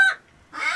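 Chickens in a barn let out two short, loud clucks separated by a brief pause, close by.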